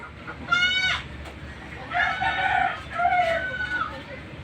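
A bullstag rooster crows twice in a row, loud and close, each call a long harmonic cock-a-doodle-doo rising and falling, with faint farmyard clucking and a low background rumble between the calls.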